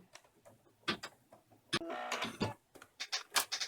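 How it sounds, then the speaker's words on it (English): An embroidery machine stitches a tack-down line on an in-the-hoop zipper bag, giving quiet, rapid mechanical bursts of needle clatter with short pauses between runs. "Put it back on the machine and sew that tack down."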